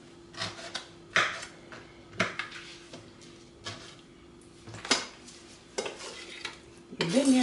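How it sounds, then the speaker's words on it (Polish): A utensil scrapes and clinks against a bowl while a pineapple salad is stirred with mayonnaise, in irregular close strokes repeating every second or so. "Wymieszamy."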